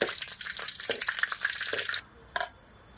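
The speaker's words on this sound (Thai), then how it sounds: "แต่เดี๋ยวก็ทอดให้ที่กรอบสักหน่อยนะจ๊ะนี่" Ingredients for red ant miang sizzling as they fry until crisp, a loud steady crackling hiss with faint stirring taps that cuts off abruptly, followed by a short utensil clink.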